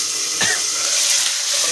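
Green chillies hit hot oil during a tempering for khichdi, a steady loud sizzle and hiss with a brief splashy burst as they drop in.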